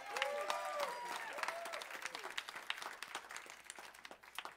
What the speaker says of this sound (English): we get to come on, give them a clap.